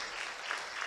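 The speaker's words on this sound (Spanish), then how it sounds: "Así que les pido un fuerte aplauso" An audience applauds at a women's church gathering, a steady dense patter of clapping hands, fairly faint and heard alone in a brief moment.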